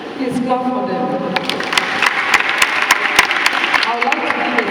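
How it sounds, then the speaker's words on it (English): Audience at a church gathering on saints applauding children as they return to their families, a sustained patter of many hands clapping with sharp individual claps standing out, fairly loud and close. "Please clap for them."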